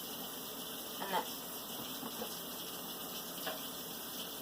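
Tap water runs in a steady, moderate stream through a Brita filter, with a couple of brief louder splashes over the flow.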